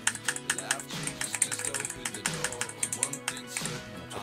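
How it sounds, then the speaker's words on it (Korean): Fingers type quickly on a budget custom mechanical keyboard with a knob, producing a dense run of crisp, fairly quiet clacks in an irregular rhythm, close up and heard alone. "기계식 키보드를 써서"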